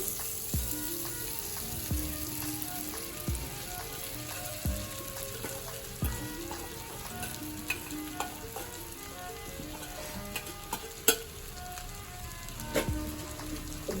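Soaked puffed rice tipped into a hot frying pan for uggani, giving a steady crackling sizzle with scattered sharp pops and clicks of stirring, close and fairly quiet, with no talk.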